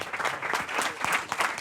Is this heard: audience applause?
yes